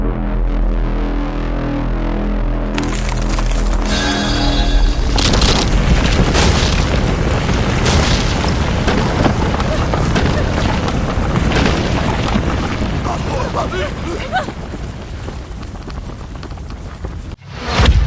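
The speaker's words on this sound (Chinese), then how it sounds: "徐家列祖列宗的牌位，这炸了！" A loud, rumbling dramatic boom effect for ancestral memorial tablets being blown up roars on for many seconds, dense and sustained, then cuts off abruptly near the end.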